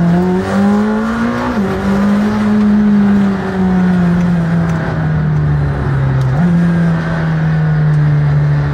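McLaren Senna engine pulls hard under acceleration, a loud steady drone that climbs in pitch, drops sharply at a gear change around one and a half seconds and again near six, heard from inside the car.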